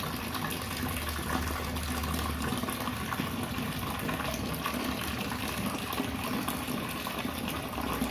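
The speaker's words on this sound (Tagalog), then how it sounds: "Pag mula dito sa gripo na to, pag magbuhos ka, yung tubig tatapon sa labas." Water runs from a faucet in a steady, continuous gush, close and even in loudness from start to finish, with no talking.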